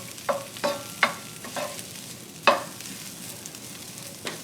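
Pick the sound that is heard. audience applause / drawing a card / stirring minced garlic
stirring minced garlic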